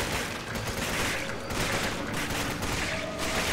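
Automatic gunfire in short bursts from a weapon in the video game Resident Evil 5, dense and loud throughout with overlapping shots and no clear gaps.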